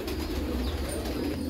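Hyderabadi breed pigeon, an old fancier's kalanja bird, cooing steadily close by with low throaty murmurs over a constant background hum, no talking.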